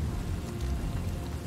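Rain falling in the video game Desperados 3, a dense, close, steady patter and hiss with a low rumbling undertone, continuous and unbroken.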